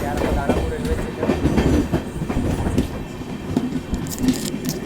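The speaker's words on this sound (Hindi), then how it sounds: "8:34 में अपनी ट्रेन की डिपार्चर हुई है।" Amrit Bharat Express train running at night from Patna toward New Delhi near Danapur, heard from inside with steady rumbling and rhythmic clickety-clack of wheels over rail joints, continuous and moderately loud.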